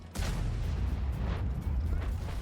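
In World of Tanks Blitz, a Škoda T 27 tank fires its gun: a sudden heavy boom with a rumbling low tail, then continuous battle noise, loud and close.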